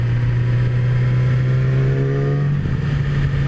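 A 2017 Yamaha R6 sport motorcycle idles and revs with a steady low rumble, loud and close, rising slightly mid-way with no one speaking.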